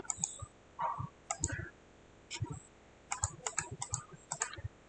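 Computer keyboard keys and mouse clicks during KiCad PCB design work, a scattered series of close, crisp taps and clicks in short bursts with quiet gaps between them, no voices.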